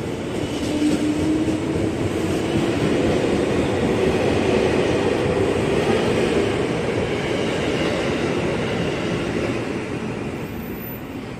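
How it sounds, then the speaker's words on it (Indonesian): A commuter train bound for Jakarta Kota pulls out of Manggarai station, a continuous loud rumble of rolling wheels and rail noise with a faint squeal, steady throughout and easing slightly at the end. "komuter lain tujuan Jakarta Kota ini berangkat menggunakan aspek sinyal kuning dari jalur sebelah stasiun Manggarai"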